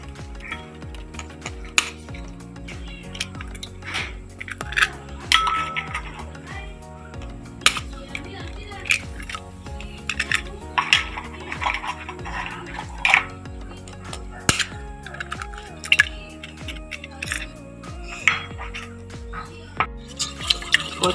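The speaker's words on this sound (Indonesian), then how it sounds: "Pecahkan 4 butir telur." Four eggs are cracked into a bowl, with irregular taps and clinks of shell and utensil against the bowl, then whisked for a mini caramel cake, giving a stretch of rapid, close clattering in a quiet kitchen.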